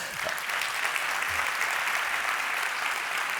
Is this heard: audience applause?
yes